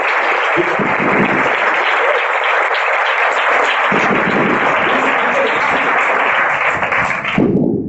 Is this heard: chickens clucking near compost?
no